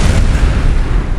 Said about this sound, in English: The explosion swallowed the street.